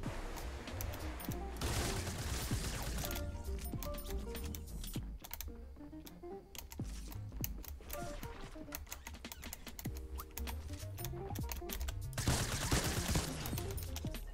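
Assault rifle fire in a video game comes as rapid bursts of shots layered over continuous game noise, loud and dense throughout, with no speech.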